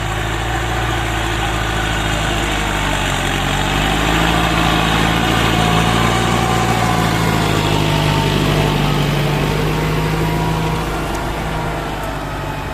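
A Ford New Holland farm tractor engine idles steadily and loud, a continuous low rumble with steady vibration that swells slightly in the middle and carries on without any talk.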